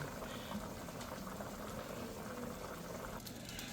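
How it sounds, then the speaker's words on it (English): Water bubbles and churns at a steady roiling boil in a pot, a continuous dense hiss with no voices. "see that water is boiling"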